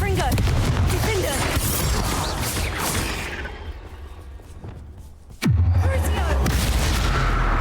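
A Confringo blasting spell goes off in the Hogwarts Legacy video game, with dense rumbling battle noise that thins out before a sudden, loud, close explosive boom that rolls on afterward.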